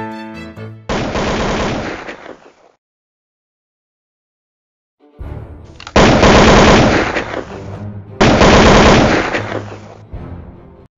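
Rifle gunfire sound effect in rapid automatic bursts, loud and close, with a short burst at the start, a gap of silence, then two long sustained volleys, no talk.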